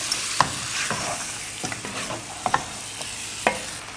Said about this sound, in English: To this, I'm going to be adding my seasoned duck. Stir it up, get that nice curry paste,